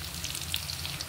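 Sahog frying in oil for adobong sitaw, giving a brief, close and continuous sizzle that ends on a single knock of a utensil.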